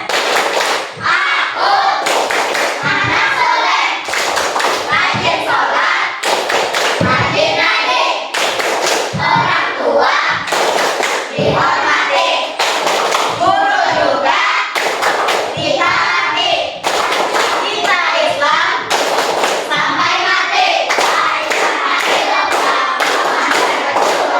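Schoolchildren in an Indonesian classroom clap along to a rhythmic clapping chant, loud dense hand claps and thumps repeating in a steady pattern throughout, with voices chanting under the claps.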